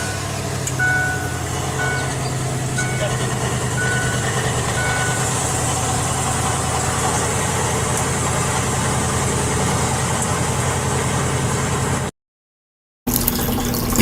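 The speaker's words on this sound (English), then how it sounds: "we're going to be able to start it without electrolysis and run this engine" An engine said to run on water without electrolysis idles steadily with a low rumble and some beeping, then cuts out briefly near the end before the noise resumes.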